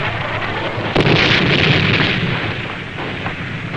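A mortar shell explodes nearby with a heavy broadband roar, a sharp burst near the start swelling into a sustained rumbling blast that slowly fades, with no talking.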